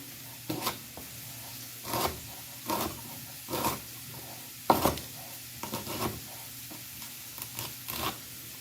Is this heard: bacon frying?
yes